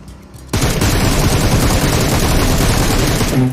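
After a short quiet moment, loud rapid gunfire in PUBG Mobile erupts and continues without pause, a dense automatic burst filling the rest of the clip.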